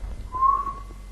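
A person whistles a single short, clear note imitating a bow whistle, close and fairly loud against quiet room noise.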